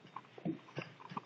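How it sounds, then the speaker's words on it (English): A dog's short scuffling growls and snaps while play-fighting with a cat, a few quick bursts close by in a quiet room, with faint chewing-like mouthing between them. "Now my dog is beating him up."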